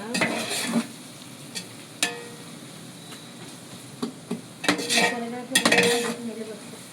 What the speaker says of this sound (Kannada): ಇವಾಗ ಚೆನ್ನಾಗಿ ಮಿಕ್ಸ್ ಮಾಡ್ತಾಯಿದ್ದೀನಿ.